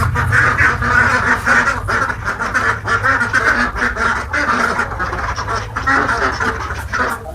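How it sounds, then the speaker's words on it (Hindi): Many ducks quack loudly and continuously at a duck farm, a dense overlapping chorus of calls with a steady low rumble beneath. "दिखा रहे बतख।"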